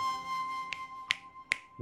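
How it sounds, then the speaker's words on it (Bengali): Three crisp finger snaps ring out alone, spaced about 0.4 seconds apart, each one sharp and close, over a faint steady hum. "জাস্ট একটা তুড়ি বাজাবো"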